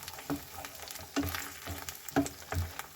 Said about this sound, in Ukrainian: О, шкварчать смачно вже.